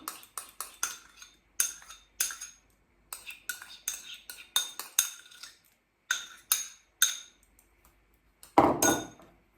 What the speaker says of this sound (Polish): Razem to wymieszamy do połączenia się składników.